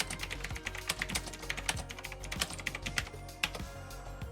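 Steady typing on a Rymek KnewKey retro mechanical keyboard with blue switches, a quick run of crisp clicky keystrokes at an uneven rhythm, close and clear with no voices.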